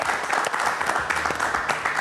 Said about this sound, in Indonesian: Kita berikan tepuk tangan untuk Mbak Lulu